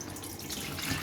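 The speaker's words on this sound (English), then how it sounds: "I'm gonna turn on the water" A kitchen tap runs into a salt container for making brine, a steady close splashing stream of water, moderately loud and unbroken.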